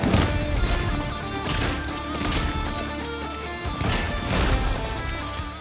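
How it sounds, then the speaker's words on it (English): Hulk smashing a god in a superhero movie scene, with loud, dense crashing impacts and a heavy rumble sustained throughout, swelling in bursts with no speech. "He simply smashes and humiliates puny gods to remind us why he isn't the one to be messed with."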